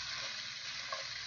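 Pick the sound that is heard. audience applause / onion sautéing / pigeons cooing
onion sautéing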